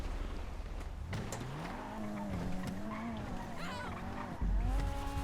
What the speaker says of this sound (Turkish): Araba geliyor çabuk beni koruyun